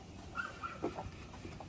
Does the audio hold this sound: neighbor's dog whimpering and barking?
yes